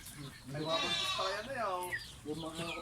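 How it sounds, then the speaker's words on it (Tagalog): Goats bleat repeatedly at close range, several wavering calls overlapping one another, with people talking over them. "Ang dami niyang ano, yan oh, kambing oh."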